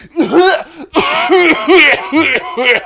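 A man coughs in harsh, repeated bursts close to the microphone, the fits mixed with throaty, laugh-like sounds during a podcast conversation.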